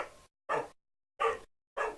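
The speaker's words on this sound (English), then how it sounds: "God damn, fucking dog." A dog barks four times in short, evenly spaced, fairly loud woofs, with silence between each bark.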